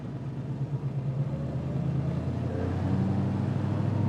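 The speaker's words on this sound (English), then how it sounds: "This thing has a fantastic exhaust system." A restored 1966 Ford Mustang Fastback idles steadily with a low, throbbing exhaust rumble, the engine note shifting slightly partway through and staying continuous and fairly close with no talk.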